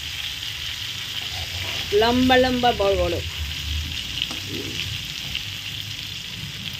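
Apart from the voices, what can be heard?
long eggplant slices frying in oil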